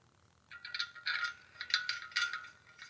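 A ratchet clicks in quick bursts while bolts are tightened on a Yamaha TRI-Z 250, giving several short rattling runs of pawl clicks. The sound is close and fairly quiet, with no talking.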